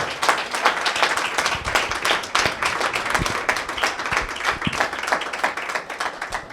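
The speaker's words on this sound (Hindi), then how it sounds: "उस फातेह के लिए जोरदार तालियां बजाएं।" A church congregation bursts into loud, vigorous clapping, many hands striking in quick, uneven rhythm with sharp individual claps standing out close by throughout.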